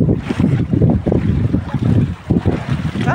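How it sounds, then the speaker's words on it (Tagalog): Strong sea waves surge around a small fishing boat out longline fishing at night, with heavy rhythmic sloshing and wind buffeting the microphone in loud, close bursts. "Ang lakas ng alon."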